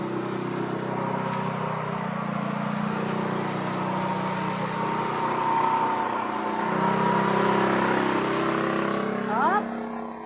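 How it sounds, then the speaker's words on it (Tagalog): A motorcycle engine drones steadily for about ten seconds, rising slightly in the middle, with a high whine and faint background hiss throughout. "Ay, ingay motor, no?"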